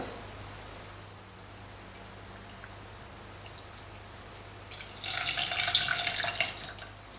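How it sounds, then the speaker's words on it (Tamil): Tamarind water poured into a tomato mixture while making rasam, a short splashing pour that starts after a quiet stretch and runs steadily for about two seconds, close and fairly loud. "இது கூட நம்ம கரைத்த புளியை ஊற்றலாம்"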